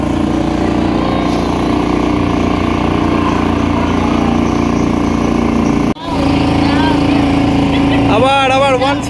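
A motorboat engine roars loud and close throughout a boat ride at a resort, cutting out briefly midway before droning on. Voices chatter faintly near the end.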